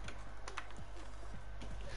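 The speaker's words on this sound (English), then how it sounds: "I'm practicing on mouse and keyboard, my aim." Computer keyboard clattering with mouse clicks during gaming aim practice, a quick uneven run of close, fairly quiet keystrokes over a steady low hum.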